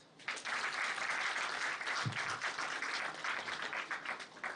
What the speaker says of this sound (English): The applaud was not as energetic as the address was.